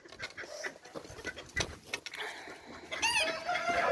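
A bantam rooster crows near the end, preceded by clucking and scratchy barnyard bustle; the crow is loud and close.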